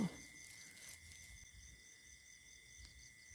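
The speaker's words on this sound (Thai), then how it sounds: "จิ้งหรีดหรือจิงหลอ" Crickets keep up a steady high, thin chirring drone, faint and continuous, over soft rustling and low background noise.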